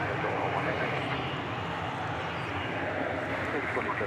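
A passenger jet, Flight 9 from Albuquerque, arriving at DFW Airport, its steady broadband engine roar holding constant and fairly loud throughout with no pause.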